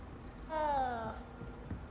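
A cat in Hogwarts Legacy gives a single clear, close meow lasting about half a second, rising then falling over faint room-like ambience.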